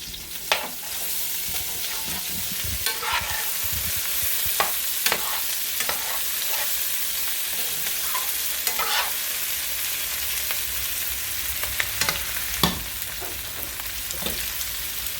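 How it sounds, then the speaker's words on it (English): Steady loud sizzle of onions frying with deer meat in a pan, with occasional scraping and stirring clicks over the constant hiss. "Now we're going to fry our onions down real good with our meat."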